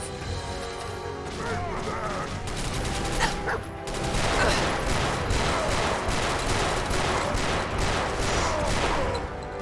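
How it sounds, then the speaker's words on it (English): Radiation guns firing in the video game Fallout 4, a dense, steady stream of rapid shots that gets more intense partway through, with a chaotic battle all around and people talking over it. "Who's using fucking radiation guns?"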